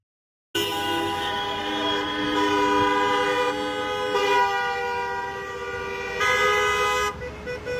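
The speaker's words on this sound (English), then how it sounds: "By the way, the honking," Car horns honk at a street protest, blaring in long, loud sustained blasts that hold for seconds, with a brief overlapping second tone, and no voices.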